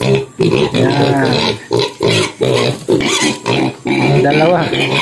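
Loud, close grunts and squeals from a backyard pig at a homemade water drinker, in quick bursts with brief pauses between them, some overlapping voices.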